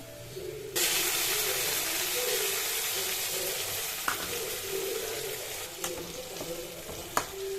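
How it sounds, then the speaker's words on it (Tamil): Ground tomato paste is poured into sautéing paneer gravy base, setting off a sudden loud hiss of steam and frying that settles into a steady sizzle, with occasional spoon clicks against the pan. "இப்போது தக்காளி ஆட் பண்ணிப்போம். நம்ம அரைச்சி வச்ச தக்காளியை"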